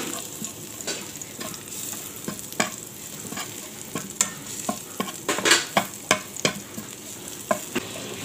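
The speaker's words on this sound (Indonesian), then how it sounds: "tumis ya, Bun, bawang putihnya." Garlic sautés in a pan while being stirred for a green okra stir-fry, a bright sizzle broken by repeated scraping taps of the utensil that grow sharper toward the end, with no talk.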